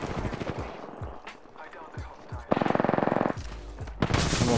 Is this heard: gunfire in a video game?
yes